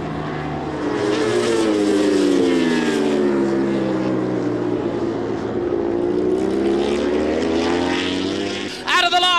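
Two World Superbike racing motorcycles, ridden by Troy Corser and Troy Bayliss, scream past flat out at full throttle, a loud sustained engine roar with shifting pitch that swells and fades as they head toward the first corner.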